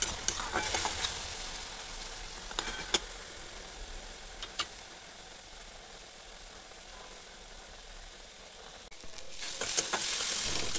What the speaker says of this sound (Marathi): शिमला मिरची छान भाजून घ्यायची, म्हणजे ही भाजी आपल्याला सुक्की हवी.